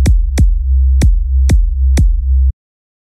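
A sustained low bass tone pumps in and out, sharply ducked five times at a steady beat by punchy hits, then stops abruptly.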